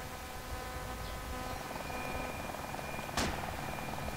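Enemy helicopter in a military video game, a steady broadband rotor drone that fills the whole clip at even loudness, with a brief sharp burst near the end.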